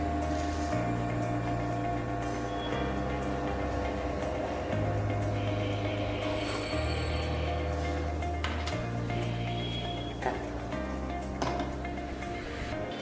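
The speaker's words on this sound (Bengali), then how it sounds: "এখন দেখা যাচ্ছে স্টেপার মোটরটি অনেক ফাস্ট ঘুরছে।" A unipolar stepper motor driven by an Arduino spins fast, giving a steady, continuous mechanical whir with shifting low stepping tones and a faint high whine, close and unbroken throughout.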